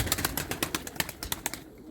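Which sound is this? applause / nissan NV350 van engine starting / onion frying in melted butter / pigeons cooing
pigeons cooing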